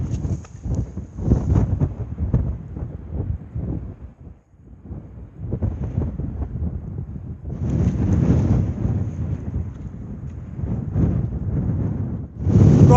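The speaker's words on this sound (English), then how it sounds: "It's quite windy." Strong gusts buffet the microphone near a summit edge on Cadair Idris, roaring in loud surges that ease briefly and then build again, with no talking.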